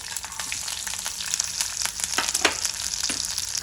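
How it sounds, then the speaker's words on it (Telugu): Garlic and slit green chillies fry in hot oil with a continuous, close crackling sizzle and scattered sharp pops throughout. "నూనె వేడైంది. 2 స్లిట్ చేసుకున్నాం పచ్చిమిరపకాయలు. అలానే ఫస్ట్ వెల్లుల్లి వేసుకుందాము."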